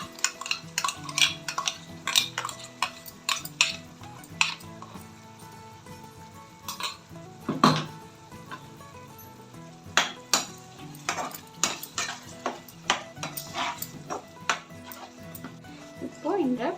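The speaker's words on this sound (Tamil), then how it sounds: "அரைச்ச விழுத சேர்த்துக்கலாம்" Ground spice paste stirred into a prawn and mint gravy with curry leaves, a spoon clinking and scraping against the pot in sharp, irregular knocks, with a soft sizzle underneath and a voice talking throughout.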